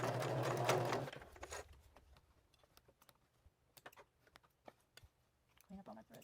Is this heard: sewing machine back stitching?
yes